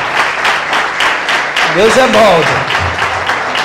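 A church congregation applauds loudly and continuously while someone speaks over the clapping, his voice rising in a short exclamation mid-way through the sustained applause.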